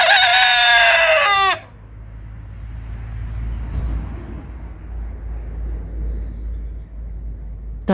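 A rooster crows loudly and near at the start, over a farmyard with chickens and turkeys outside on a ranch, followed by several seconds of low outdoor rumble and faint background noise.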